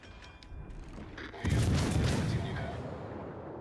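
Heavy warship main guns fire in World of Warships: Legends, with a deep booming blast that rolls out into a long, rumbling decay after a quieter stretch of ambient noise.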